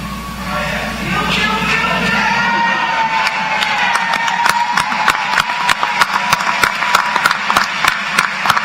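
Graduates at a Penn State Wilkes-Barre commencement stand and turn to applaud their parents and families, a loud crowd roar with cheering and whoops building into sharp, rapid claps that grow more distinct toward the end.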